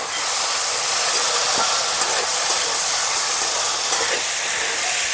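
Masala of salt, turmeric and dried chilli powder frying in a pan for chickpea ghugni, giving a steady, close, even sizzling hiss that holds throughout with no voices.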